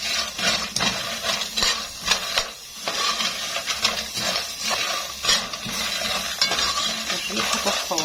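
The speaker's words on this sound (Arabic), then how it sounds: "هنقلبهم بقى كده مع العيش" Toasted bread and minced garlic stirred in hot ghee in a pan: continuous soft sizzling with repeated scraping and clinking of a spoon against the pan, close up, with no talking.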